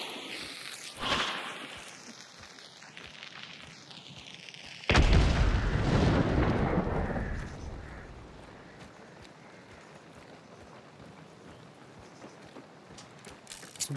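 Gunshots in the game Hunt: Showdown, with an opponent using incendiary ammunition. One faint crack comes early, followed by a heavier booming shot with a long, rumbling tail that fades into quiet ambience.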